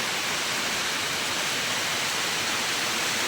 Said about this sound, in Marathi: भरपूर पाऊस चालू आहे असा जोरदार